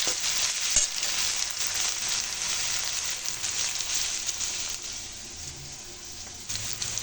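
Ginger garlic paste fries in a pan with a loud, continuous hiss. A sharp utensil tap comes early and soft stirring follows.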